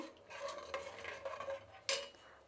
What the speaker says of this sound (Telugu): ఇప్పుడు దీన్ని బాగా కలుపుకుందాము.